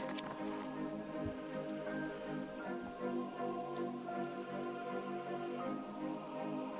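Steady rain falls in video game ambience, a soft, continuous patter of drops and drips on surfaces at low volume with no voices.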